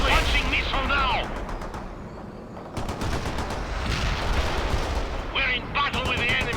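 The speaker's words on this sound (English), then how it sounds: "Fire the missile immediately! Launching missile now!" Rapid bursts of gunfire and a missile launch in the World in Conflict battle game, repeated sharp cracks with gaps of quieter rumble, mixed with shouted voices over radio-style chatter.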